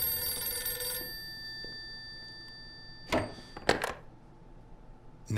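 A telephone rings in the detective video game Blues and Bullets. There is a bright electronic ring at the start, then quiet tones, followed by a few short clicks and rattles like the receiver being picked up. No voices are heard.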